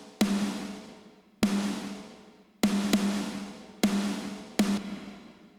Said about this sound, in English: So that's basically kind of destroying the snare drums.